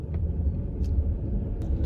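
Car driving along Evergreen Drive in North Moncton, a steady close low road rumble from inside the vehicle with a few faint high clicks and hisses, no talk.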